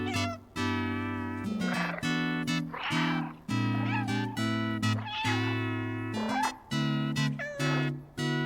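A cat meowing in the video game Stray, long tonal meows repeating one after another in a musical rhythm alongside notes played on an instrument made from an oil canister, loud and near.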